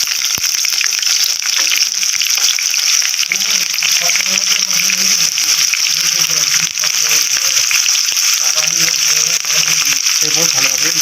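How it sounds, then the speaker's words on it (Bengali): Chopped onions frying in a pan, a loud continuous sizzle close by with occasional stirring scrapes and faint clinks underneath, no talking. "এরপর ভালোভাবে ভাজবো। পেঁয়াজটাকে বেশি লাল লাল করে ভাজবো না, হালকা হালকাভাবে ভাজবো।"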